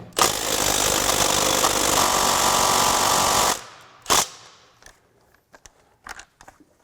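A Milwaukee Mid Torque impact wrench on its third power level hammers loudly and steadily at a bolt for about three and a half seconds. It cuts off abruptly, followed by a short burst and a few scattered clicks and clatters.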